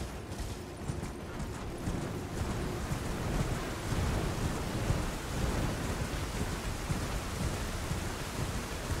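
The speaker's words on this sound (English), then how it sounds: "The rain's begun." Heavy rain pouring in Elden Ring, a steady loud hiss with low rolling thunder rumbles underneath and muffled hoofbeats of a galloping horse, with no voices.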